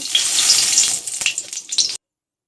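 Black cumin seeds hit hot mustard oil in a wok while preparing a spicy morla fish curry, giving a loud hissing sizzle with a few crackles before cutting off abruptly.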